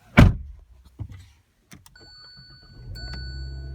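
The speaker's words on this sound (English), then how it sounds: "Push button start, also standard on the GLS model." A 2017 Hyundai Elantra GLS is started by push button from inside the cabin: a thump and a few clicks come first, then the engine turns over and settles into a steady low idle, heard close up.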